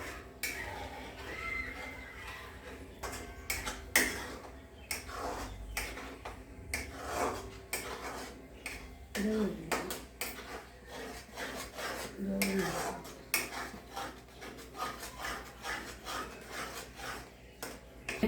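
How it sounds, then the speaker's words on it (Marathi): Thick gram-flour batter for suralichya vadya stirred continuously in a pot, with rhythmic rasping scrapes of a spoon against the metal, close and fairly quiet, and intermittent clatter between strokes. "कंटिन्यूस हलवत राहायचं आहे घट्ट होतोपर्यंत आणि हे पीठ शिजलं पाहिजे"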